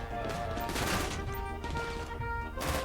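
Rapid gunfire from bodyguards in a Minecraft motorbike mod game, a quiet stream of repeated shots in bursts over a constant background hum.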